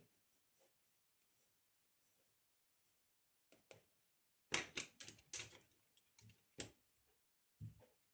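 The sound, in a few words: pencil sketching a portrait on paper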